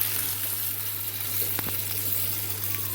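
Seasoning vegetables drop into a hot pot for Jamaican curry chicken back, giving a loud steady sizzle with a brief sharper splash partway through and a low hum underneath, no speech.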